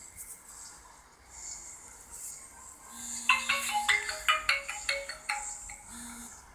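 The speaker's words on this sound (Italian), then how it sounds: "Una telefonata disturbata." A phone rings in a garbled, disturbed way during a Clash Royale game, giving a burst of rapid, bright electronic chirps after a low tone, with a second low tone closing the sequence.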